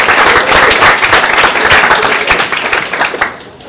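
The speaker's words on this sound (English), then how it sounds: "a huge round of applause for Tomaž Zaman." A large crowd at a talk event gives a big round of applause, loud dense clapping close by that stays strong before tapering off near the end.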